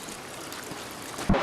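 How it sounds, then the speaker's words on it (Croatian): Spring water trickling out of a stone at a holy spring, a soft, steady wash of running water that stays fairly faint throughout, with a brief louder knock near the end. "Svete vode koju je otkrio Sveti Nikolaj, a voda izvire iz onog kamena."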